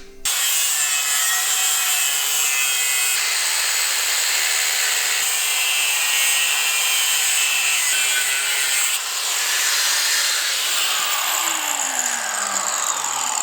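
A power tool cuts out a metal piece for swapping an RSX seat into an EK Civic, giving a loud, continuous, close grinding and rasping whine that runs unbroken with slight shifts in pitch.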